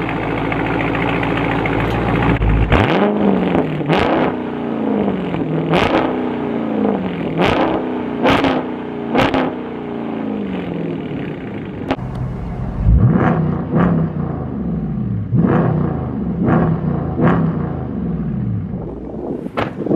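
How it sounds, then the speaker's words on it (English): A Dodge Scat Pack widebody's big V8 engine fires up and rumbles at idle, then is revved hard in a series of sharp, loud bursts, each roar dropping back to a throaty burble. "Let me start it real quick for y'all and get y'all some revs."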